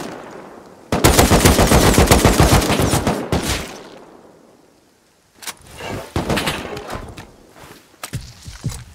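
Rapid automatic gunfire in the survival game Rust, a loud sustained burst of shots for a few seconds that fades out, then after a short pause further scattered shots and thuds at closer range.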